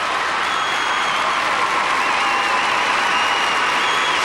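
A large arena crowd applauds steadily at the end of a men's free skate at the 1999 Four Continents Figure Skating Championships, with dense, even clapping that stays loud and unbroken throughout.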